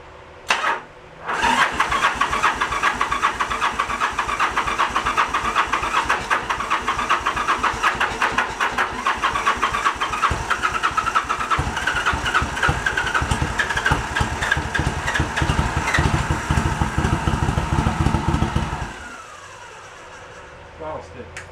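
A 1986 Yamaha Virago 1100 motorcycle cranks briefly, catches and runs loud and steady close by for about seventeen seconds before cutting out to near silence.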